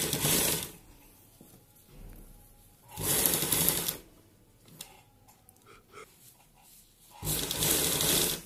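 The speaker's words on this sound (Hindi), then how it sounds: "और यहां पे सिलाई लगानी शुरू करेंगे।" A sewing machine stitches a round collar neckline in three loud whirring runs, each lasting about a second, separated by quiet gaps filled with faint handling clicks.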